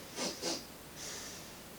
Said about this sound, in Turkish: Şimdi burundan iki defa nefes alıyoruz.